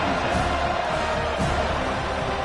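A dense college football stadium crowd roars and cheers continuously, loud and steady throughout, with a broad wash of voices filling the space.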